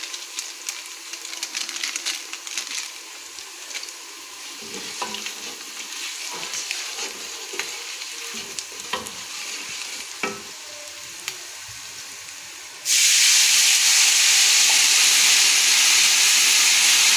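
Yakhni pulao masala sizzling in a pot while being stirred, steady frying hiss with scraping, swelling into a loud, bright sizzle near the end.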